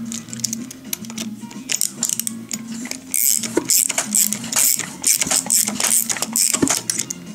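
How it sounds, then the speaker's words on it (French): An Echo 330 EVL two-stroke engine fitted with a new piston block runs with an uneven, rattly buzz that sputters and picks up, heard close up. "Puis là, le moteur il tourne."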